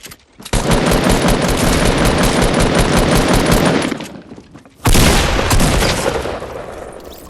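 Rapid bursts of gunfire in Fortnite Battle Royale, loud and dense, hammering almost continuously for several seconds, a brief lull, then a second heavy burst that tapers off.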